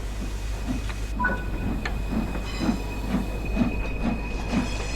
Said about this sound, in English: Now that the locomotive is moving, you can close the cylinder cocks.